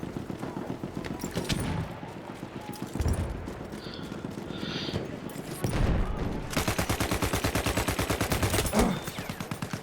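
Submachine gun fire in Battlefield 1, heard as bursts of rapid automatic shots among other battlefield noise, ending in a long sustained rattling volley, close and loud.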